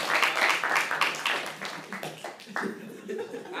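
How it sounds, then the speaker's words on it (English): A lecture-hall audience at a computer science class claps for volunteers after a sandwich-making demonstration, starting as a loud dense burst and thinning into scattered individual claps that fade toward the end. "Round of applause for the volunteers."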